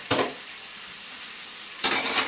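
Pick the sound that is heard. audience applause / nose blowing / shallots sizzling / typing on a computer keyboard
shallots sizzling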